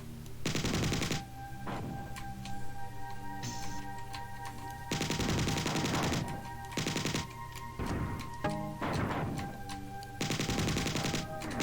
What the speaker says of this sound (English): hunter death explosion killing another entity.